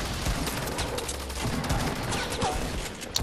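Rapid gunfire from a video game firefight, with a Desert Eagle pistol landing a headshot, comes as a dense, steady rattle of overlapping shots with sharper cracks scattered throughout.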